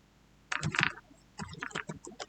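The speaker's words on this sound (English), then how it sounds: "now let's type in the command to execute the Django project." Keys clatter on a computer keyboard as a command is typed into a terminal, two quick bursts of close, crisp clicks separated by a short pause.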